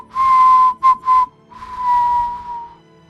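A clear, steady whistled tune: a long held note, two short chirps, then another long sustained tone, close and alone.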